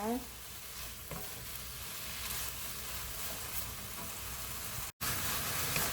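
Bean sprouts stir-fried with pork in a pan, an even close sizzle with stirring scrapes, briefly cut off near the end, no talk.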